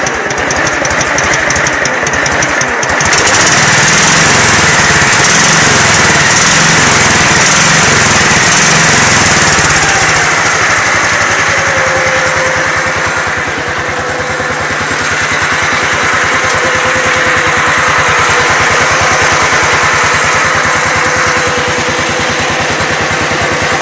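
Small engine of a homemade Craftsman racer running close and loud: a steady buzzing putter that revs up after a few seconds, settles briefly lower, then holds a constant drone throughout.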